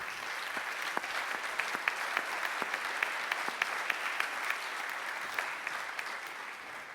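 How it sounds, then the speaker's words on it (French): Even, continuous applause from an awards evening audience at a prize ceremony, with sharp individual claps popping out of the wash at a moderate, somewhat distant level. "On vous applaudit."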